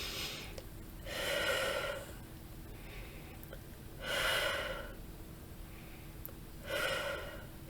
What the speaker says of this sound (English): take 3 deep breaths